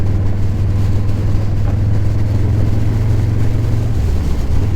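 A lowrider's engine drones loud and steady on a city street, a constant low rumble that holds without clear rises or breaks.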